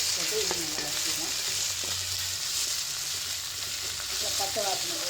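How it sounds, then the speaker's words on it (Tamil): Crushed ginger and garlic sauté in a pan along with crushed small onions, a steady bright sizzle with occasional light spoon scrapes and stirring clatter throughout. "அடுத்தது இடித்த இஞ்சி பூண்டு போட்டு இது நல்லா வதக்கிக்கலாம்."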